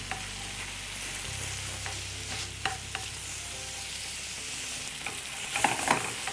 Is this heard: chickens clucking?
no